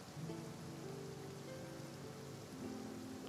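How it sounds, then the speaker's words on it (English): Rain falls steadily over the city of Fontaine in the video game Genshin Impact, a dense even hiss of drops with soft sustained musical tones underneath and no speech. "It is beautiful when it rains in the city."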